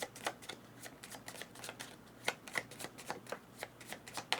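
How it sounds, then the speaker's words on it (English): A deck of board game cards is shuffled up close, with rapid crisp riffling clicks in quick irregular bursts, fairly quiet and with no talking. "We will shuffle these 6 and put these on top."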